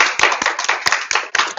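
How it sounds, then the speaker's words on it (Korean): Small audience clapping hands during a Korean university lecture on creative talent and TRIZ; a short burst of close, crisp claps with uneven rhythm, loud and alone. "박수 한번 치고 시작할까요?"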